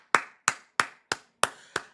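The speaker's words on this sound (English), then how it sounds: "Give a round of applause." Six sharp, evenly spaced claps ring out close and loud with nothing else around them, as if an audience claps in unison to honor a woman athlete being introduced.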